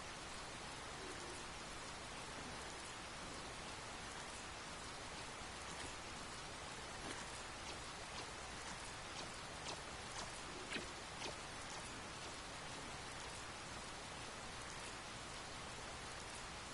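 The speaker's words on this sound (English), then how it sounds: "I like that rain effect. Or the sound of the rain in this game." Steady rain from the video game Dragon Quest Heroes 2, a dense, even hiss of falling drops with faint scattered patters, continuous and alone throughout.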